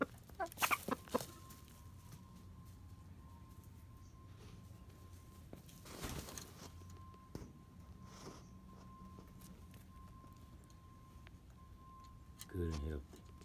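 Gamefowl chickens cluck softly and intermittently in a backyard cage, with occasional louder bursts and some bumping noises close by.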